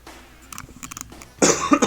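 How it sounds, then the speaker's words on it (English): A single harsh cough bursts out close by after a few quieter throat sounds. "Looks like the cough is just not going to go away"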